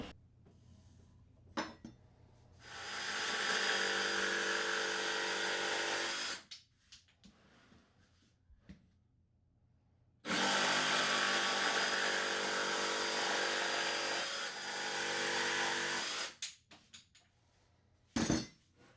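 Power tool cutting the corners of an MDF shelf for a tool cart in a workshop, two loud sustained cutting bursts of several seconds each, separated by quiet pauses with small clinks and handling noises.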